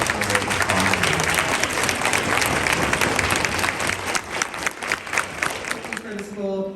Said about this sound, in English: Let's give a round of applause to each of our special award sponsors.